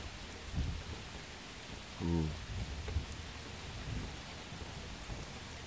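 An early morning thunderstorm brings steady rain hiss with a low rumble of thunder rolling through in the middle, moderately loud and somewhat distant, with faint talk in the background.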